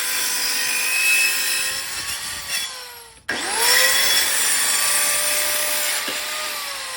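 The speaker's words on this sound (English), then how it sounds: "so now I'm going to chop it all down to size" A power saw cuts wooden bed slats to size with a loud, close whine that drops in pitch under load, stops briefly, then starts again for a second cut.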